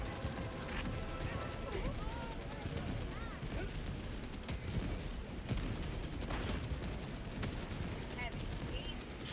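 An orbital barrage strike in Helldivers 2 pounds down as a dense, continuous roll of heavy blasts and gunfire, loud and chaotic throughout, with voices in the mix.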